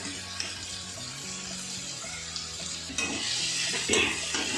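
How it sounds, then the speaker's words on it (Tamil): Beans and potatoes are sautéed and stirred in a pan over a medium flame for rava kichadi, with a faint sizzle and occasional spoon scrapes over a low background hum. "காய் எல்லாத்தையும் நம்ம சேர்த்துட்டு கொஞ்சம் நேரம் நல்லா வதக்கணும்."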